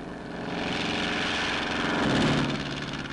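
A civilian patrol airplane flies a regular scheduled route, its steady engine and propeller drone holding loud and continuous throughout with a slight swell near the end.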